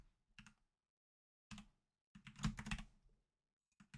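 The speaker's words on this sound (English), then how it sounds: "I'm using the keypad on my computer keyboard." Keys on a computer keyboard's numeric keypad are tapped in short bursts of clicks, separated by pauses, close to the microphone while entering notes in Sibelius notation software.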